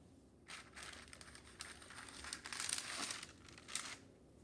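Sheet of parchment paper crinkling and rustling under a hot iron pressed over perler beads, a steady dry crackle with brief louder crinkles, close by, with no talking.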